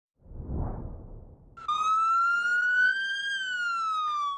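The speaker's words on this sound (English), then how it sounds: "Watch as this ambulance is driving down Southeast Powell Boulevard in Portland, lights and sirens blaring" An ambulance siren blares on Southeast Powell Boulevard in Portland, a loud, close, steady tonal wail that starts abruptly after a low rumbling whoosh of passing traffic and holds with a slow pitch glide.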